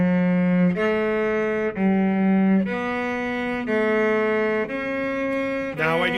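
Cello playing a passage in thirds, steady bowed double stops stepping through about seven sustained chords, each held under a second, clear and close with no talk.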